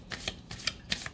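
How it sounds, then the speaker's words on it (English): A deck of tarot cards is shuffled close by in several quick riffling bursts, crisp papery flicks spaced about every few tenths of a second, quiet and alone. "One more shuffle."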